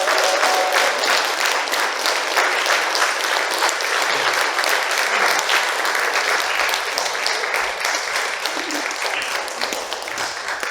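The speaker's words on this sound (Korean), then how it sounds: "연주자분들께 다시 한 번 더 뜨거운 박수 부탁드리겠습니다." A crowd at a Seogwipo citizens' college event applauds a string quartet after their performance. The clapping is loud and sustained, a thick wash of many hands lasting about ten seconds and easing only slightly toward the end.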